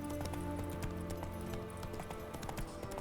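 Roach the horse gallops in The Witcher 3, steady clip-clop hoofbeats running continuously at close range over a busy game soundscape with faint music tones.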